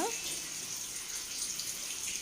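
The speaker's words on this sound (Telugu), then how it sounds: "కొంచెం తీసుకొని అలాగా చల్లుకోవాలి" Water is sprinkled by hand during a Poli Padyami puja at the close of the Karthika month, giving a steady soft splashing hiss after a brief voice at the start.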